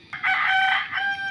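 A wild junglefowl rooster crows close by in a forest setting, one loud, drawn-out call lasting about a second, heard alone with no talking.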